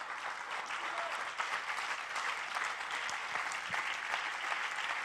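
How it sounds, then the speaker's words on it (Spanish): Spanish-speaking church congregation giving a strong round of applause to the Lord, steady dense clapping from a crowd throughout, moderately loud and without speech. "¿Por qué no le das un fuerte aplauso al Señor,"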